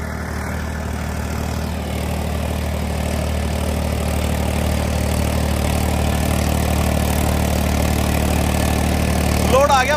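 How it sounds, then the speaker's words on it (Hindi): A Swaraj 855 tractor engine idles on a sugarcane farm, a loud, steady low rumble that holds throughout with no voices. "काम करने के लिए भाइयों ने ट्रैक्टर ला रखा दूसरा स्वराज 855।"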